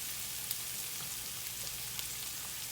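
Peppers and onions fry in a pan with a steady, even sizzle and crackle from start to end, alone and at moderate distance.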